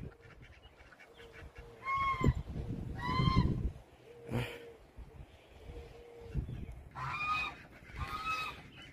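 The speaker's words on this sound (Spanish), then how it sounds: "Mira, ahí están mis patos." Ducks call nearby with several loud honking, nasal bursts in irregular groups, mixed with low rustling background noise and no speech.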